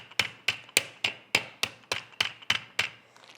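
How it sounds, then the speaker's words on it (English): A rolling pin pounds chicken breast flat inside a sealed Ziploc bag, giving ten sharp, evenly spaced thuds roughly every third of a second. The blows are close and loud, with a few faint taps at the end and no talking. "And I'm going to use my rolling pin to hammer this flat."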